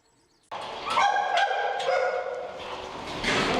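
Rescued pit bulls saved from a dogfighting operation bark in a sharp burst of several overlapping barks and yips, fairly close, starting abruptly after a brief silence and continuing steadily.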